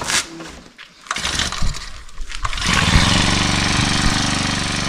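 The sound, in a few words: weed cutter engine starting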